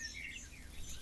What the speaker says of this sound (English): Yes, I can lower the sounds of the bird.